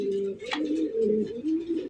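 A male yellow tailmark pigeon cooing repeatedly up close, low throaty rolling coos in several phrases with a short higher note partway through, no speech over it.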